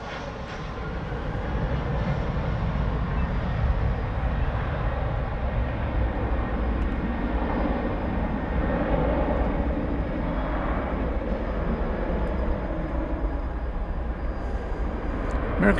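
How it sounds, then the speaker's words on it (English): An American Airlines Airbus A319 jet airliner arriving at night from Oklahoma City, a steady broadband engine roar holding at constant loudness throughout, with no voices. "It's an Airbus A319 coming in from Josh Aldrich territory, Oklahoma City"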